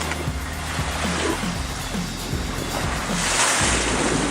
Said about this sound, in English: We're probably in a 3-foot swell with just, I don't know, tiny 10-inch little waves on top going the opposite direction.